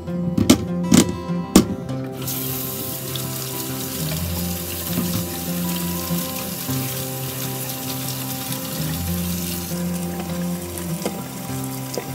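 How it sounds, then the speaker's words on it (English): A kitchen tap runs steadily as peeled potatoes are washed, a close continuous rush of water that follows a few sharp knocks at the start, with no talk. "you're going to want to wash them so you don't get any dirt on the peeled potato"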